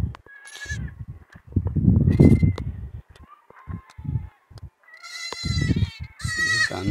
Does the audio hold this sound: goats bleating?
yes